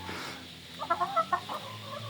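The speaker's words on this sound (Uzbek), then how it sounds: "Tovuqlar hansillayapti." A few quick, soft clucks from panting chickens in a short cluster, moderately close, over a quiet steady background.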